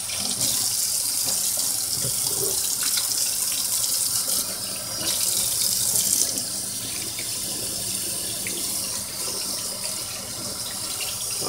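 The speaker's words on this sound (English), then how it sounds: "I gotta go wash my hands again" Tap water runs steadily from a kitchen faucet into a sink while hands are washed during oxtail preparation for a crock pot, a continuous close hiss and splash with no talking.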